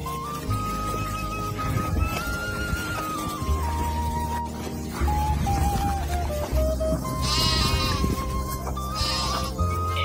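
Sheep bleat repeatedly at night while wolves threaten the flock, the calls sitting over a steady backdrop of game-like music and ambience, fairly loud and close.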